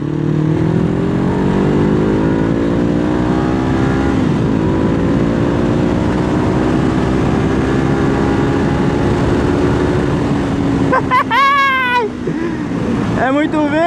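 A Suzuki GS 500 motorcycle engine drones loudly and steadily under acceleration, its pitch climbing and then easing while riding, with strong wind rush throughout and a brief rising whine near the end.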